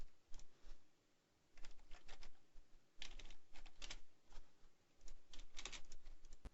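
Keys clatter on a computer keyboard in quick bursts of typing, separated by short pauses, close and fairly quiet, with no talking.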